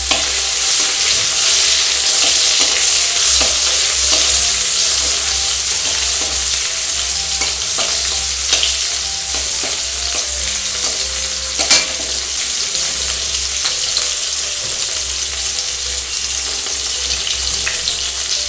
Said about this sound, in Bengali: টমেটোটা ভালো করে নেড়ে তারপর আমি মশলাগুলো দেবো